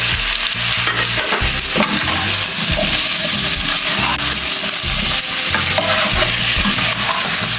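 Spices for pumpkin soup sizzle and fry in a pot while being stirred, a loud continuous crackle with repeated scraping strokes of the spoon against the pot.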